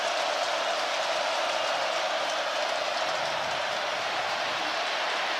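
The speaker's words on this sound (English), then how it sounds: "Bear crowd trying to bring a little noise." A home crowd at California's college football stadium roars during a third-down play against Miami in 2024, a steady, dense wash of distant cheering that holds at an even level throughout.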